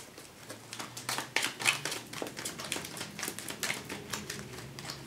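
Cardfight!! Vanguard trading cards being shuffled by hand at a tabletop game, a dense run of quick papery riffles and snaps close up, with no talk over them.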